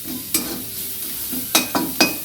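Onions fry in a small amount of oil in a pan, with a steady sizzle. Several sharp scrapes of a stirring utensil break through it, one early and three close together near the end.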